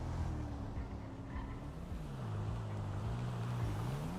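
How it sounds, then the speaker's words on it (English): Black Subaru BRZ car driving in a roleplay video game, a low, faint engine hum with shifting revs and a rising and falling pitch throughout, steady and without voices. "It's a black Subaru BRZ."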